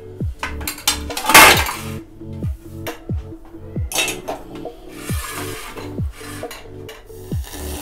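Cooked oats are scraped from a pan onto a plate with a utensil, giving a loud, close run of repeated metallic scrapes and clinks in an uneven rhythm, with no talking.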